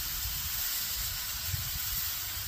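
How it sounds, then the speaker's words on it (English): Venison patties sizzling in a pan, salted only, a steady broad hiss with soft crackle running evenly throughout at moderate level, no one speaking. "While that's cooking, we'll go ahead and get our patties on."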